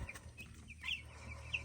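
Eighteen-day-old chicks chirp and peep softly in short bursts over a low background hum, a faint, close brooder sound heard alone without speech.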